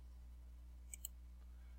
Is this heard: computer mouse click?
yes